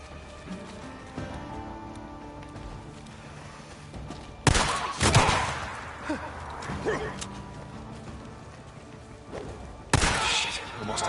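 Sniper gunfire in a video game: a few sharp, loud single shots crack out at irregular intervals over a low, rumbling background.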